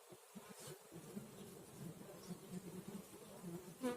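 Honey bees buzzing around hive frames, a soft continuous drone of many insects with faint individual buzzes rising near the end, low and distant, with no talk.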